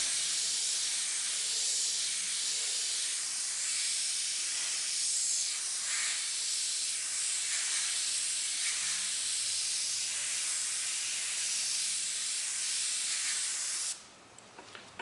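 Steady airbrush hiss of paint spraying onto a ripped sheet metal art piece, a continuous broadband spray running unbroken for about fourteen seconds before cutting off abruptly near the end.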